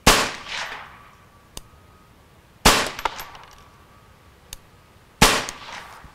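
Three sharp, loud pistol shots from a Ruger Charger .22LR firing cheap bullets, spaced a few seconds apart, each with a short ringing decay and a fainter click in the gaps.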